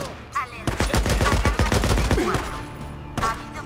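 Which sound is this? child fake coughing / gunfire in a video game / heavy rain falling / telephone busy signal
gunfire in a video game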